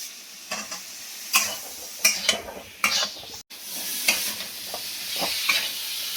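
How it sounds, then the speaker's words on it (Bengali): Bottle gourd stalks fry and sizzle in a hot pan while being stirred, with bursts of sizzling and scraping at irregular intervals, close and fairly quiet. "ডাঁটাগুলো ভাজা হয়ে গেছে"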